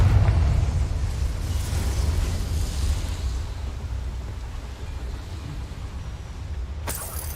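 A loud, roaring blast from the Confringo fire spell in the video game Hogwarts Legacy, cast near a boiler; a dense, rumbling burst that slowly fades, ending with a sharp crack near the end.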